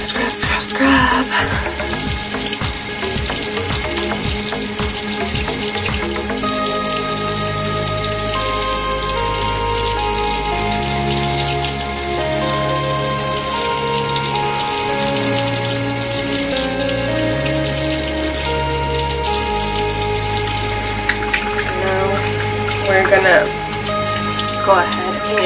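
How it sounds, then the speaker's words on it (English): Tap water running steadily while rinsing a face during a morning facial routine, a continuous splashing hiss under background music throughout. "Go ahead and rinse away."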